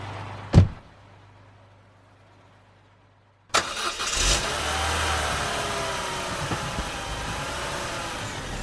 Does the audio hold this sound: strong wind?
no